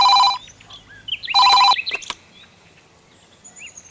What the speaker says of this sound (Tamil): புருஷமா ஃபோன் பண்ணுறான், கொஞ்சம் ஃபோன் எடுத்து பேசுமா.